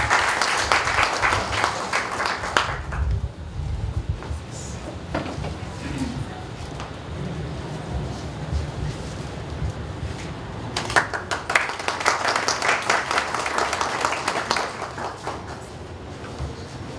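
An audience at a Women's Day celebration applauds during a ceremonial lamp lighting; a burst of clapping dies away, scattered murmurs and shuffling follow, then a second strong round of applause swells toward the end.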